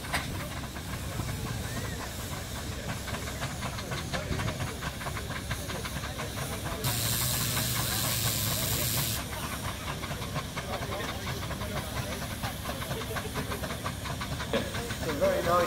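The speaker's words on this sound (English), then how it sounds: "Number 8 in your programme, the Foster agricultural engine, built in 1903." A 1903 Foster agricultural steam engine at a steam rally releases a steady broad hiss that swells into a louder burst for a couple of seconds, set against general outdoor rally noise.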